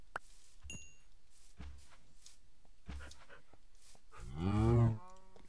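A Minecraft cow lets out one loud, close moo near the end, after a stretch of quiet, soft thuds and footsteps.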